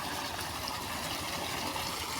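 Irrigation water runs onto a farm near a wheat field with a faint, steady, even rushing flow and no other sounds standing out.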